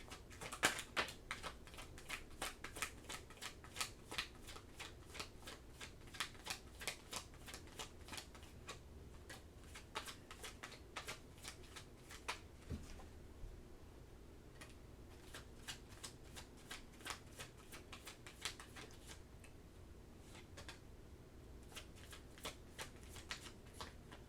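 Tarot cards are shuffled by hand at close range, a long run of quick crisp riffling clicks and flutters in repeated bursts, fairly quiet and with no voice.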